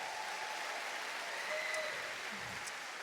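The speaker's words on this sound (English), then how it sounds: "Can we give them a round of applause one more time?" Applause from a concert-hall audience at Massey Hall during a rock hall of fame induction, a soft, distant wash of many hands clapping, steady and even, with a faint whistle or cheer briefly cutting through.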